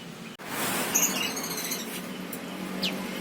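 A Kacer Jabar magpie-robin from Cianjur, West Java, caged at a bird market, gives a few sharp high chirps and short whistled notes over a low background hum of the market.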